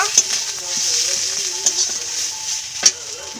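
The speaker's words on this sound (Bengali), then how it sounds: "লঙ্কা গুঁড়ো দিয়ে দিব, ধনে গুঁড়ো, হলুদ গুঁড়ো, জিরে গুঁড়ো। ভালো করে নাড়াচাড়া করে নিব।" Chilli, coriander, turmeric and cumin powders fry in a pan for a prawn and banana flower dish, a close steady sizzle broken by sharp scraping stirs at regular intervals, with faint speech underneath.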